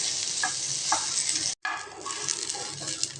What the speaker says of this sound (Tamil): அது வரைக்கும் அப்பப்போ கிளறி விட்டு வதக்கிக்கிட்டே இருக்கலாங்க.